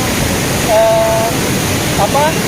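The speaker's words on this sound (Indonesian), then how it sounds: "di sini kita bisa melihat begitu tingginya air terjunnya" The Sikking waterfall in Pinrang, South Sulawesi, gives a loud, steady broadband rush of falling water that fills the whole stretch, with a couple of brief faint tonal sounds over the roar.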